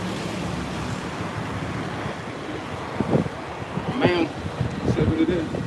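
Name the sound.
wind blowing into the microphone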